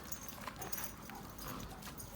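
A Kangal and a Pinscher dog play together, with scuffling, pattering movement and faint yips and whimpers under a steady noisy background.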